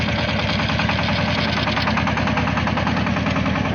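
A tractor engine runs steadily near a rural vegetable garden, a loud, close, continuous rumble with a fast even chugging pulse and no pauses.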